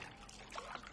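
Water is poured into a basin while a child's feet are being washed, a brief, soft, steady trickle heard faintly and close by.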